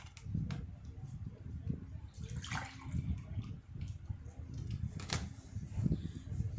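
Milk is poured into a white sauce for mac and cheese, giving a low gurgling, sloshing pour that runs steadily for several seconds and mixes with a few faint clinks.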